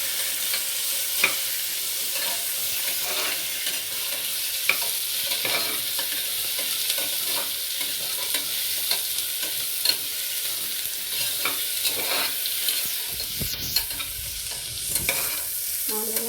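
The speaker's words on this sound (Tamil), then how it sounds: "4 வெங்காயம் நல்லா வதங்கட்டும்" Four onions frying in oil in a pan for a South Indian tomato curry, a steady broadband sizzle running throughout with occasional spoon scrapes and stirring knocks, no voices.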